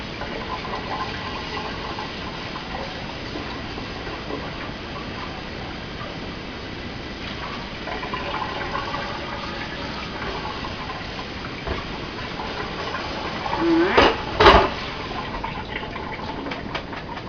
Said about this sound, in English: I'm going to rinse it just a little more